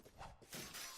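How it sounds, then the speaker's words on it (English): A brief, faint metallic crash from a video game, sharp clanging impacts like metal striking metal, with a bright ringing edge, lasting about a second. "It's the sound of metal hitting metal."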